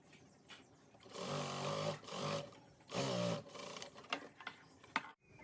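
A sewing machine stitches a double colour gown in short bursts, a close steady mechanical whir that stops and starts with ticks and clicks between runs, no talking.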